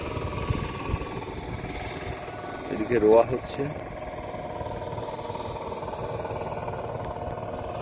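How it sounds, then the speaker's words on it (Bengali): A power tiller runs continuously while ploughing a field in the Sundarbans, its distant, steady engine drone held under close talking throughout. "আর ওদিকে পাওয়ার টিলার চলছে কন্টিনিউ।"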